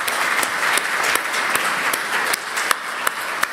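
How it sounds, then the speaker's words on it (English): Steady applause from a conference audience, many hands clapping together with a few sharper individual claps standing out near the end. "can you use a big round of applause"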